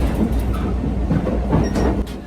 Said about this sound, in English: the train moved so slowly through blighted paths that falling off the rails was difficult